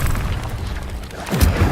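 Incendio fire spell cast in Hogwarts Legacy, a short whooshing burst that ends in a low boom near the close of the clip.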